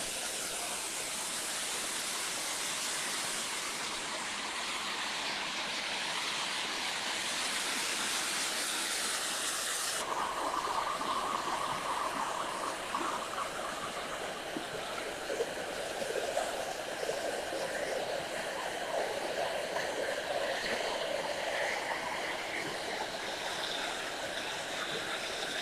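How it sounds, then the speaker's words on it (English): A waterfall pours in a steady, full rushing roar, continuous and close, unchanging for the whole stretch with no voices. "There's another waterfall here."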